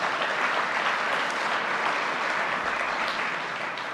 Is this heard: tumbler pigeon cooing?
no